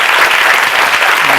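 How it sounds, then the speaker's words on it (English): A short burst of loud, dense applause from a conference audience after a humanitarian response panel. "Round of applause."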